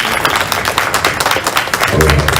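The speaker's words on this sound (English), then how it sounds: "a round of applause for Mauricia" Brief burst of audience applause for a speaker at a talk, a short dense patter of clapping lasting a couple of seconds, loud and close, with a voice starting near the end.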